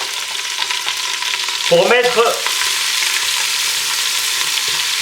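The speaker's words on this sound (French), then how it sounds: "faire dorer nos oignons." Onions browning in hot oil left over from searing chicken for poulet basquaise give a steady, close hiss of frying, with a short spoken word rising briefly over it.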